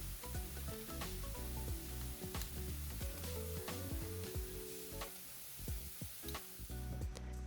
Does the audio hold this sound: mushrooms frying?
yes